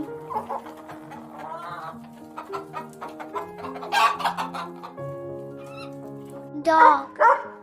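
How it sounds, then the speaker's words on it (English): A chicken clucks in a string of short, uneven calls with a few louder squawks toward the end, close and distinct. "Chicken."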